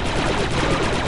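Rapid blaster fire rips through a fight against droids in Star Wars: Republic Commando, a loud, continuous stream of shots with no pauses.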